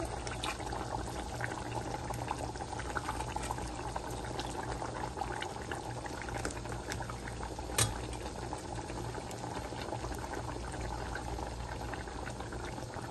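Crab gravy simmering and boiling in a pot, a steady close bubbling and hiss with a soft single clink partway through, no voices.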